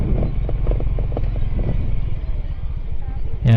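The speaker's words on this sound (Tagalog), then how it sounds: "Ayan, may motor." A motorcycle rolls through a parking area at Camp John Hay in Baguio, its engine giving a steady, close, throbbing rumble with uneven pulses that fade out before a brief knock at the end.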